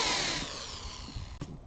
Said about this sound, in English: I'm just going to kind of carefully drill a pilot hole